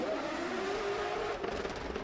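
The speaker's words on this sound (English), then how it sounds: "Absolute no mechanical sympathy for that throttle or that engine, just full throttle all the way around that last corner." A drift car screams around the last corner at full throttle during qualification at the Oman International Drift Championship, its engine droning continuously with a rising whine and a brief tire-squeal edge near the end.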